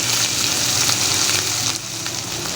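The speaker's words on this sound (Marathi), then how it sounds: "तेल आपलं चांगलं तापलं आहे त्यामध्ये मी जिरं घालते मिरची तुम्हाला किती तिखट हवे त्याप्रमाणे घालायचं" Cumin seeds and green chilies sizzle in hot oil, a loud, close, continuous crackling hiss that stays steady with a slight drop in the final second.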